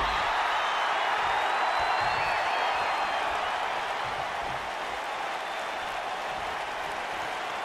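Arena crowd in a wrestling video game, with dense applause and cheering that hold a steady roar and ease off slightly toward the end.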